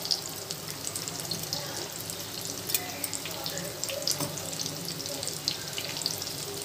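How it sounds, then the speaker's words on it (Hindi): Dahi vada frying in a pan of oil, a soft continuous sizzle and crackle with scattered pops, fairly quiet and close, with a faint voice in the background. "इस तरह से हमें साइडों को चेंज करते हुए इसे फ्राई कर लेना है।"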